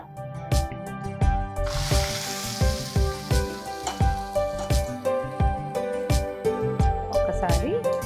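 A tempering of cashews and curry leaves for a festival offering sizzles in a pan under rhythmic, repeated stirring and clinks, while people talk over it.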